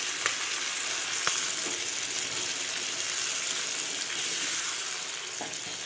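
Tomato pieces and blended tomato juice hit a hot pan with green peas, giving a steady loud sizzle and fry hiss throughout, with a few sharp clicks of a spoon stirring.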